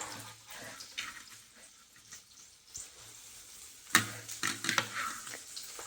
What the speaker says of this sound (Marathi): आता कांदा टाकूया. कांदा आणि मिरच्या